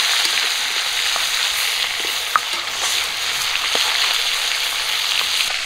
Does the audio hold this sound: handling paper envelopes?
no